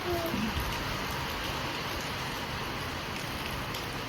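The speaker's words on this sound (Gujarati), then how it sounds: "આવી રીતના ઝરમર ઝરમર વરસાદ ચાલુ છે ભાઈ" Soft, steady patter of light drizzle falling continuously in a village in Gujarat, a faint, even hiss with a brief whistle-like tone at the start.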